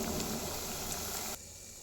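Pesarapappu vadas frying in hot oil give a steady, dense sizzling hiss that stays even throughout, then drops slightly quieter near the end.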